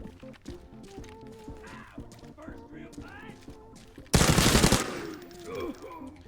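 A rifle fires in the video game Arena Breakout Infinite, one loud sharp burst of shots cutting abruptly through quieter game music and background noise, then trailing off.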